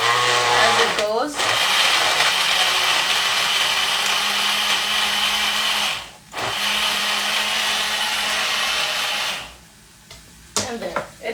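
Kitchen blender pulsing food for a cauliflower and potato dish, a loud whirring motor running in long bursts with short pauses between pulses, then a final stop followed by a clatter.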